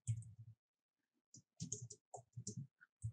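Typing on a computer keyboard while entering MATLAB code, heard as short bursts of close, crisp key clicks in uneven runs separated by brief pauses, with no talking.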